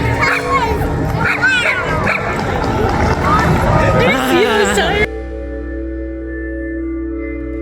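A small dog barks and yips in quick, high bursts amid a noisy crowd of talking adults and children at an outdoor Alaskan event, and then the sound cuts to a steadier background hum.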